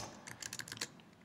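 Rapid keystrokes on a computer keyboard, a quick close burst of clicks with no voices.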